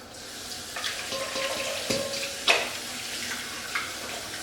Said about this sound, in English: I'm just going to rinse this with water.